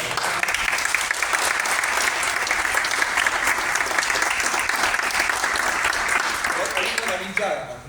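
Sustained, dense applause from a large audience at a conversation event in a library in San Fernando, steady and loud for several seconds before thinning at the very end, with faint speech mixed in.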